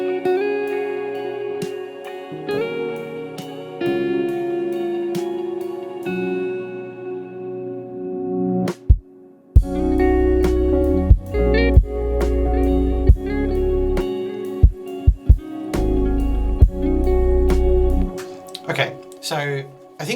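An electronic rock song with guitars, drums and bass plays back, opening with a sparse, tonal intro before dropping into a fuller, heavier section with punchy drums and deep bass about halfway through.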